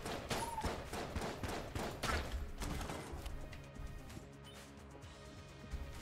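Rubber bullets fire in rapid volleys in Enter the Gungeon, a dense crackle of loud shots in the first seconds that thins to scattered, quieter pops over a steady game soundtrack.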